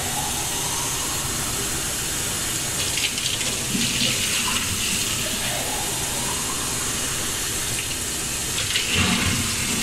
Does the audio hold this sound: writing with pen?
no